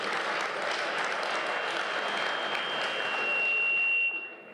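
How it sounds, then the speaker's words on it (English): A room of guests applauds at the BRICS Summit 2023 welcome gala dinner at Gallagher Estate, Johannesburg, giving a steady, dense clatter of clapping that swells slightly near the end and then fades out abruptly. "let's give all of us a round of applause that we've made it"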